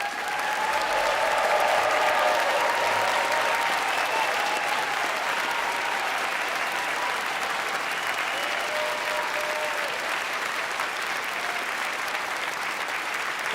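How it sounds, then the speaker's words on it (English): Sustained audience applause in a concert hall after piano competition candidates stand at a preliminary recital, a dense, even clapping that continues for over thirteen seconds, heard at moderate distance. "give them a round of applause"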